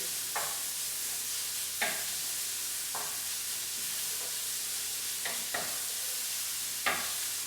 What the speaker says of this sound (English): Right, really hot pan. In with your bacon. You want that to go really nice and crispy.